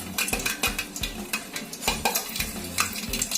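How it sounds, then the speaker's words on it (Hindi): Vegetable cabbage Manchurian balls deep frying in hot oil, a close steady sizzle broken by repeated scraping and knocking strokes of a utensil against the pan, with no talk. "ऑयल हमारा गर्म हो चुका है। तो इसमें हम डीप फ्राई करेंगे।"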